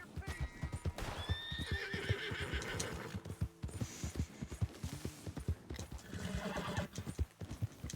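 In a PC video game, a horse neighs several times over the rapid thudding of galloping hooves, with a second whinny near the end, all fairly close and busy.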